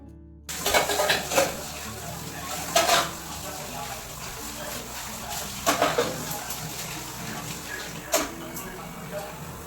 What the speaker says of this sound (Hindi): तो अभी तो बर्तन मांज के मैं ऊपर रख रही हूँ और पहले कुछ बर्तन मांज लेती हूँ